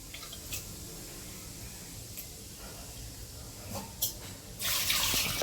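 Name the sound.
water poured into a pot of prawns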